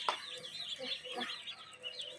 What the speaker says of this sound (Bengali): এই তোমার মুরগি।